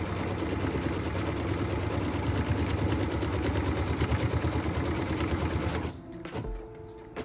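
A sewing machine runs a continuous rapid stitching chatter while sewing a quilt block piece, close and steady for about six seconds before stopping, followed by a few faint handling knocks.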